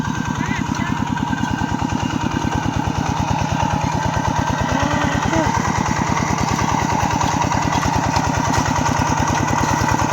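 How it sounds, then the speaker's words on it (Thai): Two tractor engines chug with a fast, steady pulsing rhythm, loud and close, running continuously with no pause while ploughing rice fields. "รถไถ2 คัน"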